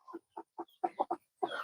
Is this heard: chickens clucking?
yes